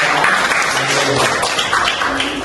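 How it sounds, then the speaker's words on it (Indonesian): Classroom applause from a group of students at an Islamic religious education lesson, a dense steady clatter of many hands throughout, loud and close, with a teacher's voice faintly under it. "tepuk tangan buat kita semua."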